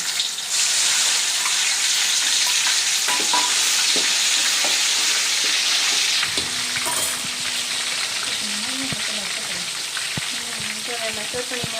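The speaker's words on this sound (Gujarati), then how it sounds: "જો તેલ આવી ગયું છે. તો હવે જો લીમડો નાખ્યો" Curry leaves crackle and spit in hot oil, a loud continuous sizzle that settles slightly after a few seconds, with intermittent stirring clatter and faint background voices.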